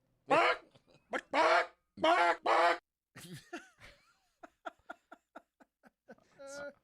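A man imitates a chicken with his voice, first several loud strained squawks, then a run of short rapid clucks growing quieter, ending in one higher-pitched cackle.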